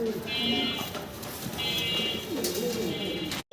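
Spanish-breed fancy pigeons cooing: soft low coos over a steady background din of other birds, with a faint voice in the mix and a few rising tonal calls.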